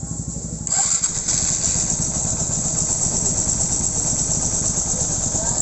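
A Honda XR150 motorcycle engine cranks and catches, then settles into a steady, close, throbbing idle that runs on without a break.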